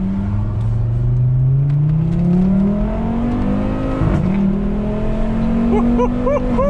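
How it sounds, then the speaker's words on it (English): A Volvo S60 R engine revs up steadily, its pitch climbing and wavering, loud and close, with a brief catch partway through before rising again. "I'm gonna give it some gas, put it in advanced"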